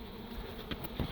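Bees clustered in a birdhouse buzz in a dense, steady hum close by, with a couple of brief louder bumps.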